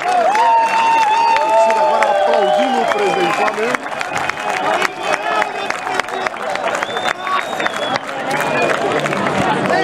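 Flamengo fans in a stadium cheer and clap as the club president walks onto the pitch, a loud, continuous crowd roar with scattered whistles and sharp claps running throughout.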